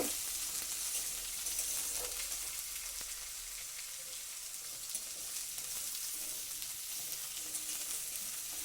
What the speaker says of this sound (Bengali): আমি একটু নাড়াচাড়া করে এটাকে তেলের মধ্যে একটু কষিয়ে নিচ্ছি